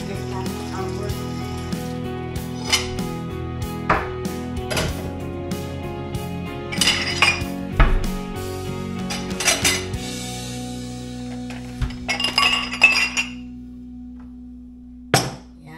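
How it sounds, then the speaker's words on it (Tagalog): Plates being stacked and put away in a kitchen cupboard: a series of ceramic clinks and knocks, some sharp and loud, with cupboard bumps between quieter pauses. "mag-prepare ng mga plato. Ilagay natin sa cupboard."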